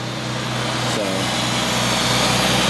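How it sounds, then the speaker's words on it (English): An RB25DET engine swapped into an R33 runs steadily with a prominent intake whoosh over a low idle hum, continuous and close throughout. "The only noise that it's making is that intake noise"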